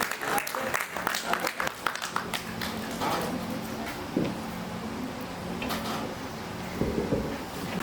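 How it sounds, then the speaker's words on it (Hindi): Applause welcoming the chief guest at the start of a Hindi stage play event, uneven clapping from the audience that rises and thins, with scattered knocks and shuffles and some talk. "एक बार जोरदार तालियों से प्रमाण दीजिएगा अपने होने का और स्वागत करिएगा हमारे मुख्य अतिथि का।"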